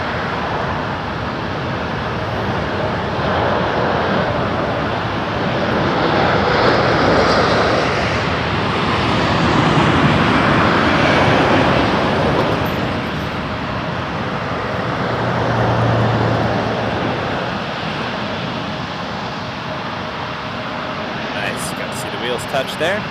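A regional jet lines up on runway 23 at Toronto Pearson Airport, producing a broad, continuous engine roar that swells and fades over about twenty seconds, heard from a distance outdoors.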